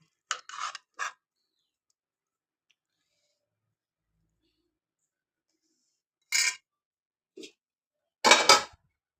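Spoon scraping and clinking on a plate while serving chicken curry, a few short bursts of clatter separated by quiet gaps, close and fairly loud with no talk.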